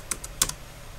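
A few quick keystrokes on a computer keyboard while entering a terminal command: two light clicks, a pause, then a sharper pair of taps, quiet and close with no speech.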